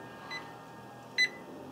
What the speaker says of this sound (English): it's flashing a low alarm to let me know that the barbecue has dropped below that